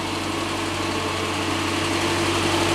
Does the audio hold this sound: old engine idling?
yes